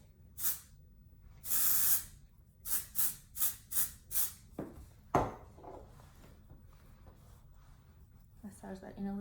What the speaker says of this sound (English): A little bit more of the texture spray.